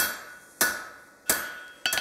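Hot steel is hammered on the flat of an anvil while drawing out blacksmith tongs, with three ringing metallic strikes spaced about two-thirds of a second apart, each decaying into a sustained high ring.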